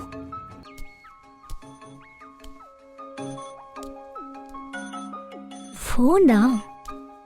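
A phone rings indoors in a house during a search for a missing person, a musical ringtone with stepped tones that repeats for several seconds and then swells louder near the end, with voices faintly underneath.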